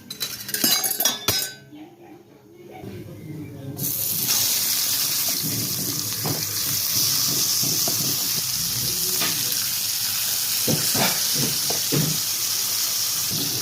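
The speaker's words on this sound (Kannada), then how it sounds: "ತವ ಇಟ್ಟಿದ್ದೀನಿ ಮೀನು ಫ್ರೈಗೆ" Pepper fish fries in oil on a tawa with a steady bright sizzle, preceded by clinks of a utensil against the pan and light scraping as pieces settle into the hot oil.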